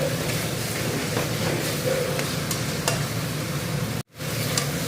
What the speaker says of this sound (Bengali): তো এখন বাটা মাছের মশলা কষাচ্ছি।